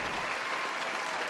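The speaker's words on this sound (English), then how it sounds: "So applaud yourselves, ladies and gentlemen" Steady applause from a live show audience fills the whole moment, a dense, even wash of clapping without pauses.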